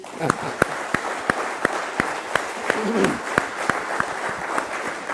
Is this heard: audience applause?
yes